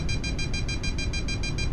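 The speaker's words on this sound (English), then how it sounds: "There's also an audio cue to help you find and stay in rising air. Beeping means the air is rising." Rapid, evenly pulsed electronic beeps from the variometer in an FSX glider flight simulator, signalling rising air; a continuous loud tone pattern alone, with no talk.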